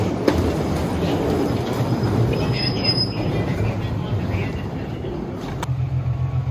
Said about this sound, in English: Nice little train here.